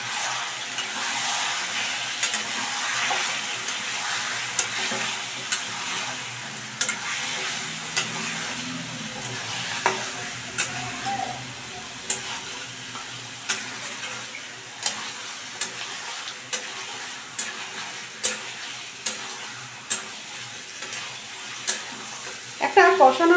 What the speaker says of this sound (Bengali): এবার কিন্তু খুব ভালো করে আমি কষিয়ে